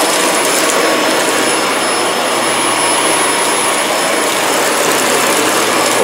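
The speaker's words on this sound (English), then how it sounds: "Good ass vacuum." A Dyson vacuum cleaner clogged with dog hair runs loud and close, a steady high-pitched whining roar with an airy rush that holds unchanged throughout, no voices.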